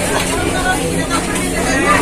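A crowd of ferry passengers disembarking a ship packs the exit, a dense murmur of overlapping voices and shuffling, steady and close, with a person talking over it.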